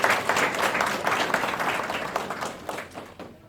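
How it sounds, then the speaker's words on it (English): An audience at a nursing graduation ceremony in a hotel gives a warm round of applause, dense sustained clapping that stays steady and close throughout, tapering slightly near the end. "But let's give him a round of applause."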